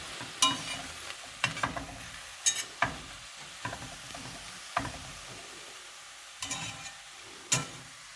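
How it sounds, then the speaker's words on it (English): Onions softening in butter in a pan give a faint, quiet sizzle, broken by repeated close scrapes and taps of stirring at irregular intervals. "So I'm just gonna wait for those onions to get translucent and softened."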